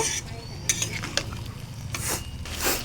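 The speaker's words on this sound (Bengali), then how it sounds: "সামান্য একটু জল দিয়ে একটু আর একটু কষিয়ে নেব" A spatula scrapes and stirs potatoes sautéing in a pan with a splash of water, close metallic clinks over a low sizzle, with bursts of hissing steam toward the end.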